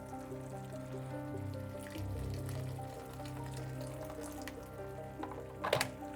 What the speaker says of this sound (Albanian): I hedh pak ujë.